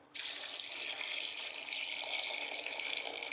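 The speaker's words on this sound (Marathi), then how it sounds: "मी पाणी ॲड करून घेतो" Water pours steadily into a pot of peanuts in their shells, a continuous close splashing rush that starts abruptly and keeps going without pause.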